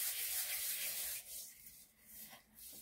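Fine salt scrubbed across the surface of an antique iron like sandpaper, a steady close gritty rubbing that eases into softer, uneven strokes.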